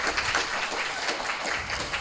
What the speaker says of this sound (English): Clap for Longmire, yes.